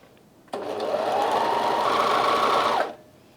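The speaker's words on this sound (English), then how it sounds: "do a short piece of sewing and just make sure you've got everything back to how it ought to be" A Bernina 1100DA serger overlocker runs a short test seam, a fast, even mechanical whirr starting abruptly, holding steady and close for about two seconds, then stopping cleanly into quiet room tone.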